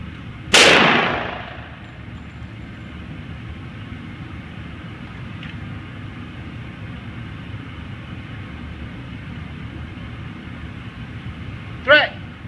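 Pistol shot on a shooting course: one loud, sharp report near the start over steady background rumble, followed by a fainter crack near the end.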